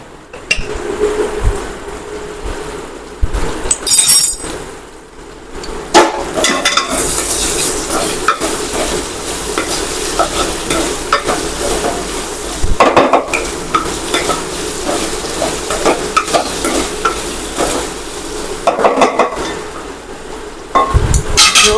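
Potatoes cooking in a pan with salt added, stirred now and then: continuous loud frying sizzle broken by repeated scraping and clattering stir strokes, with a few sharper knocks, and no talking.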